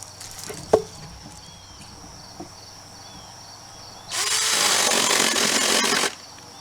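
A pruning saw, likely a small chain type, runs for about two seconds in a loud continuous burst cutting branches down to firewood size, after a few faint knocks and outdoor quiet with insects.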